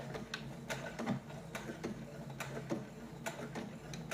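A sewing machine back-stitching fabric for an aromatherapy bag, soft rhythmic mechanical ticks and clicks repeating at an uneven pace, quiet and close.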